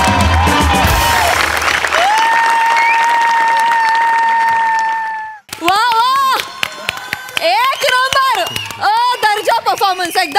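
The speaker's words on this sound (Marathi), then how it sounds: "जोरदार टाळ्या झाल्या पाहिजेत" A studio audience at a Marathi TV comedy show claps loudly in a thick, continuous wash of applause with a steady tone underneath, which cuts off abruptly before people begin speaking.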